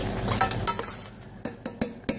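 Risotto being stirred in a pan, with quick scraping strokes and a few light metallic clinks of the utensil against the pan, close and brief.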